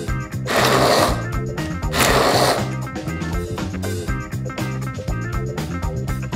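Fresh redcurrants, stripped from their stems and washed, being pureed in a blender, with a loud, steady whirring motor that surges in two strong bursts before settling into a continuous grinding buzz.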